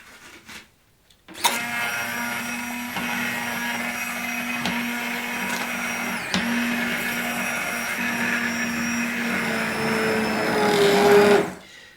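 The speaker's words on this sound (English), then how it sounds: "you can make cream of potato soup, which is really relatively easy to do if you have a hand processor or a blender." An electric blender purees potatoes into cream of potato soup, starting abruptly with a loud steady whirring motor hum that drones on evenly, swells slightly near the end, then cuts off.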